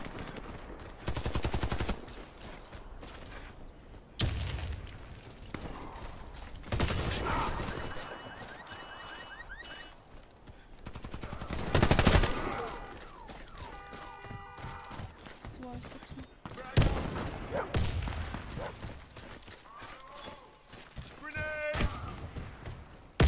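Video game gunfire crackles in several separate loud bursts among clopping hooves and other combat noise, with people talking and shouting throughout.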